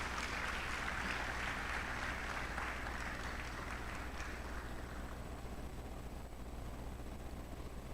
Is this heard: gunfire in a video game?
no